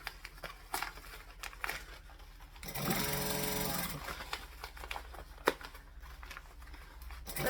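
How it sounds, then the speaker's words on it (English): A sewing machine stitches a fabric seam within the seam allowance, a rapid mechanical whirring burst of about a second amid quieter handling rustles and small clicks, fairly close and moderately loud. "So I'm just stitching within the seam allowance."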